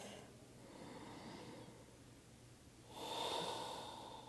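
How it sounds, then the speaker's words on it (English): A soft, deep breath is taken during a yoga forward fold in a flexibility practice focused on half lotus. A quiet inhale is followed by a louder, breathy exhale near the end. The sound is close and faint, and no one speaks. "Let's do 1 more breath."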